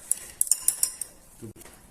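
A mixture for a chemistry experiment is stirred in a container, giving several quick, close metallic clinks and taps in the first second. A short murmur of voice follows.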